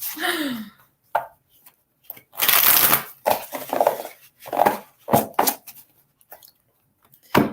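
A deck of tarot cards being shuffled in repeated bursts of riffling and slapping, close and crisp, separated by brief pauses, with a few quiet voice fragments in between.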